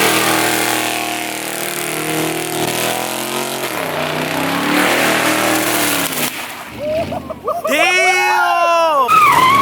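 A Nissan GT-R at a car meet gives a loud engine drone, then sharp revs that rise and fall near the end, with people talking over it.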